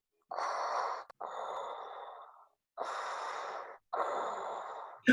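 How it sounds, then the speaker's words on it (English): Darth Vader's slow, heavy breaths, close and raspy, alternating inhale and exhale in a steady rhythm, separated by brief silences. "Breathing."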